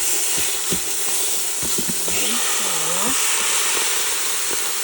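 A chuck roast sears in a hot pan, giving a steady broadband sizzle and hiss throughout, with a few sharp clicks and a wavering tonal squeal partway through.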